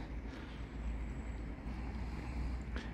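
Water from a burst pipe pours through a city street in Kyiv, a constant broad rushing roar with wind buffeting the microphone, steady and close throughout.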